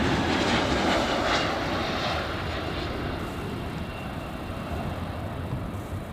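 An airliner touches down on the runway at LAX, its engine roar loud at first and then easing into a steady, slightly fading rumble.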